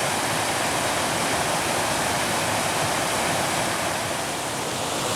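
A steady, full rush of water falling at Pigeon Falls in Allegheny National Forest roars continuously, broad and unbroken, with no voices.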